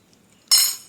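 A single sharp metallic clink rings out and fades as a spoon and knife are handled in a kitchen, close and bright after near silence.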